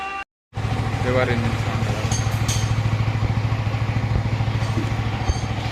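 A Yamaha R15 V3 motorcycle engine idles steadily after a bearing repair, its even low throb loud and close after a brief silent gap at the start, with faint clatter and light background noise over it.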